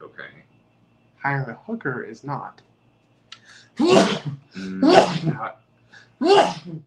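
A single sneeze breaks into an adult conversation, loud and close, with people talking before and after it.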